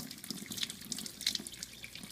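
Dal lentils are rinsed under running water in a sink, a steady close splashing and trickling with soft drips and no voices.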